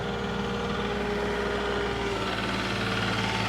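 Truck engine running steadily with a low, even mechanical drone while hydraulics lift the front wheels, close and unbroken throughout, no voices.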